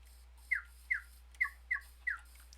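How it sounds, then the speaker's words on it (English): Five short, bright chirps from a bird in modded Minecraft (Nevermine 2), evenly spaced about half a second apart, close and clear over a faint low hum. "where is this bird here? It's practically right on top of me"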